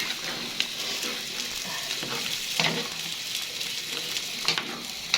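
Garlic and onion paste fries in a pan for a fish dish, giving a steady close sizzle with a few sharp crackles and light stirring scrapes throughout.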